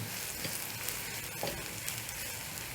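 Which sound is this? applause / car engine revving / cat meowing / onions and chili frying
onions and chili frying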